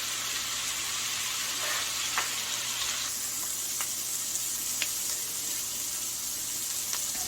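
Egg ingredients frying in a small 8-inch pan, giving a steady close sizzle with a few sharp crackles and pops throughout, no voices.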